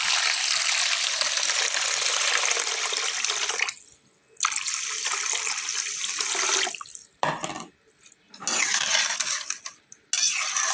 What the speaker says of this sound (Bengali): এখন আমি এটাতে পানি দিয়ে নেব। পানিটাকে আমি হালকা একটু গরম করে নিয়েছি